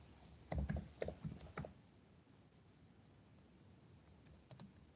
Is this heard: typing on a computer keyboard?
yes